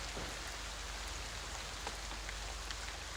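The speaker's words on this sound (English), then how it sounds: "And right now it's pouring rain." Steady pouring rain hisses evenly on surfaces throughout, with scattered drop ticks and no voices.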